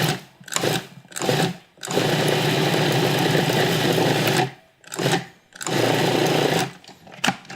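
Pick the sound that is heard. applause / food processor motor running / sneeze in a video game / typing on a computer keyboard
food processor motor running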